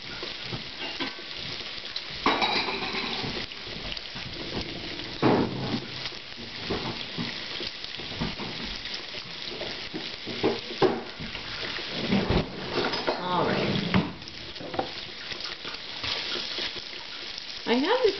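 Frozen bacon sizzles on a griddle set to 300 degrees, a steady close hiss and crackle running the whole time with occasional louder pops and a voice talking over it.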